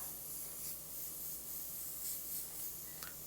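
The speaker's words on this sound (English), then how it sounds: "So I have some Wicked Black in my airbrush. I'm going to start blocking all of this out in" Airbrush spraying black paint over paper and other colors: a steady, soft, close hiss that runs unbroken throughout, with no voices.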